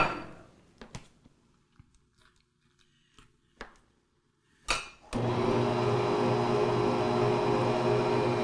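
Bosch Universal Plus stand mixer mashing ten pounds of boiled potatoes with butter: a few scattered clicks and knocks give way to a loud, steady motor whir and churning that runs continuously to the end.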